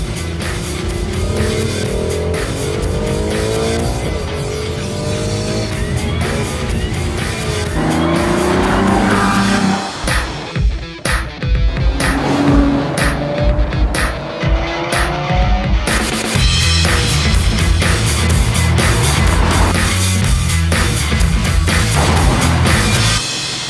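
A Ferrari FF engine revving and accelerating hard in sport mode, rising and falling through gear changes, loud and close, with sharp bursts and tire noise.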